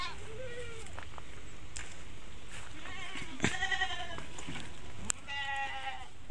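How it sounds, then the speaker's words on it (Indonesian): Goats bleat repeatedly while being fed cassava leaves outdoors after strong overnight wind, several distinct calls close by over a steady breezy background. "tak makasih makan kambing dulu ya"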